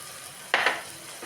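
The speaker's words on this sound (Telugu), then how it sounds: "పోపు కూడా వేగాక పప్పు వేసుకుని వేయించుకోండి" Tomato fries with golden lentils and spice tempering in a single pot for rasam rice: a quiet, low sizzle broken midway by a brief clatter of stirring.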